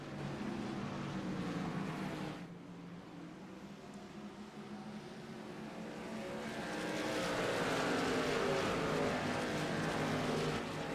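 Racing truck engines roar around Watkins Glen International in a simulated truck series race, a steady drone that dips, then swells louder as the pack passes close, with no talk over it.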